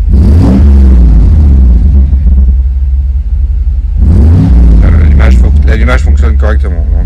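A Mercedes M119 V8, warm after a recent run, is restarted and settles into a loud, steady idle with a low rumble, and a few louder revving surges come toward the end.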